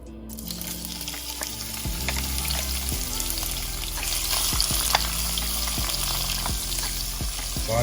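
Shrimp sizzle steadily in hot oil as fried rice begins, a constant frying hiss with intermittent clinks and scrapes of a utensil stirring in the pan, close and continuous.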